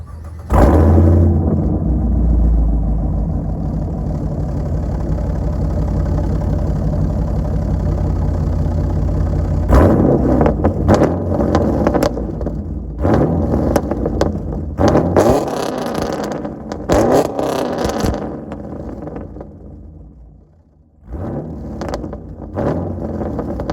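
A Pontiac G8 GT V8 with newly installed headers and new pipe: it cranks and fires, settles into a loud, deep idle, then takes several sharp throttle blips that roar up and fall back, close to the exhaust.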